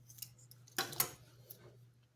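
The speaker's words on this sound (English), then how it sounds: "we cut a piece of straw so that we remove just a little bit of it" Scissors snip through a drinking straw for plant grafting, one or two quick, crisp cuts heard up close and quiet over a steady low hum.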